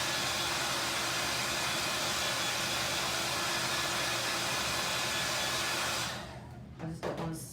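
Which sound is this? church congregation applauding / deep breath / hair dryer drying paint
hair dryer drying paint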